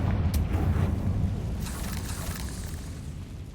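A Confringo explosion spell going off in Hogwarts Legacy, a soft muffled boom at the start that trails off into a low rumbling decay, fairly quiet with no talking.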